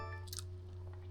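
Brief crunchy chewing of crusty Moroccan bread, a few crisp bites close up over a steady low hum.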